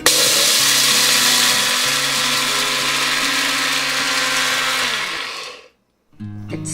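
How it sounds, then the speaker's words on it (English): A mixer grinder whirs loud and steady for about five seconds, grinding green gram and cardamom, then cuts off, falls silent briefly and starts up again. "Okay, so now first grinding I'll do it just with the gram and the cardamom."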